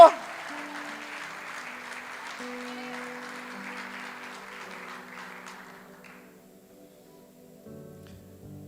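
Steady applause from a congregation at a church service, fading gradually, with a sustained musical tone underneath and a few low notes near the end.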